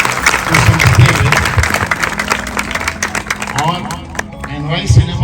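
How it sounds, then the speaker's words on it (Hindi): Applause from an audience at a school Teachers Day celebration at Mount Litera Zee School: steady, dense clapping that continues throughout, with crowd noise and talking over it. "मैं चाहूंगा अपने लोगों से भी और आप लोगों से भी स्वयं एक जोरदार ताली अपने लिए"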